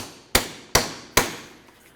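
Three loud, evenly spaced hammer strikes ring out on a nut threaded onto the front shock and spring assembly of a 2002-2009 GMC Envoy, each a sharp metallic bang that decays quickly.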